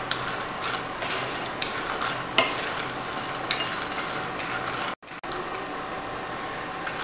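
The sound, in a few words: stirring nuts to coat them in masala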